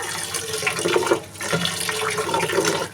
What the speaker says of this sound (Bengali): এখন ভাতের চালটা ধুয়ে নিচ্ছি